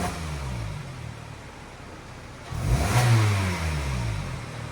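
A 2012 Kia Optima 2.4L on its stock exhaust idles with a steady low drone, then revs up sharply about halfway through and settles back, heard up close.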